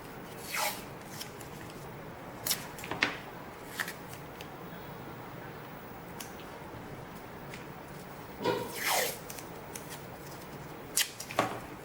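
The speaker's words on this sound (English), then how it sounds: "I'm not a fan of cutting with scissors, as you can see" Quiet, sparse snips and paper rustles over faint background hiss, a few brief cuts spaced irregularly, close and soft, as scissors cut a paper mask for rubber stamping.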